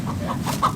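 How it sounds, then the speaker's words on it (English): Clucking from a large young Orpington hen, a few soft, close clucks in quick succession with one slightly louder call near the end, heard alone. "The next one is our Orpington chicken. That's a big chicken right here"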